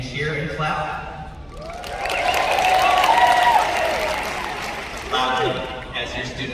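A Texas A&M liberal arts commencement audience cheers and claps, with whoops and voices rising over steady applause that swells in the middle and eases toward the end.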